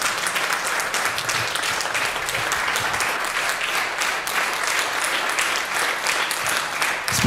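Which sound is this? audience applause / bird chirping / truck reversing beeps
audience applause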